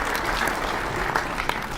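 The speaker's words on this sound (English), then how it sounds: "So give yourselves a round of applause." Brief burst of audience applause at a talk, a crowd clapping steadily and fairly distantly for under two seconds.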